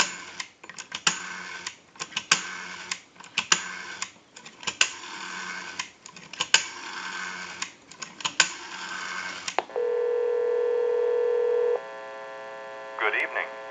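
A burst of short touch-tone beeps as a number is dialed on an AE Monophone 40 rotary desk telephone converted for dialing, followed by a steady tone and a brief electronic chirp.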